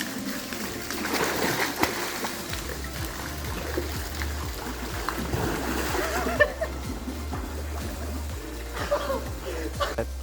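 A swimmer gliding through the water makes steady splashing and sloshing close by, with a low rumble underneath and occasional brighter splashes.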